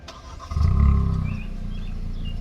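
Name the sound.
2023 Kia Forte GT engine starting by remote start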